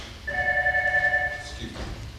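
A telephone rings in an office setting, one sustained electronic ring tone lasting about a second, fairly close and clear, followed by a faint shorter chirp as it cuts off, with low room noise and murmur underneath.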